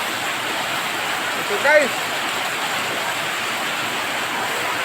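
Heavy holy week rain in Bayog, Zamboanga del Sur, pours as a dense, unbroken hiss that stays loud and even throughout, with someone speaking a couple of words briefly over it.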